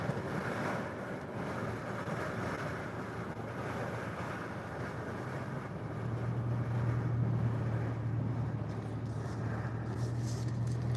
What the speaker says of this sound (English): Sorry if you guys can hear the wind. That's how windy it is outside.